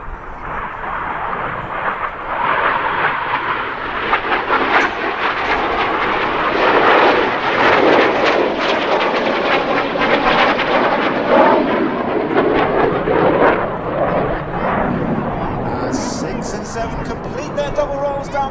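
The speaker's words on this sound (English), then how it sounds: "As 6 and 7 close for one last time at 700 miles an hour, they will roll twice towards each other in the imaginatively titled double rolls." RAF Red Arrows jets flying double rolls at an air show in New York, a loud sustained jet roar that swells to a peak midway and then trails off, with a voice over it.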